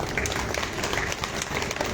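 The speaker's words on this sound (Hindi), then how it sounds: "एक बार तालियां बजाओ।" An audience at a comedy performance claps in a dense, steady patter of applause that carries on for a couple of seconds without a break.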